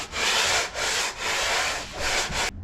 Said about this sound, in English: So I'm quite confident I'm only sanding at the bottom here.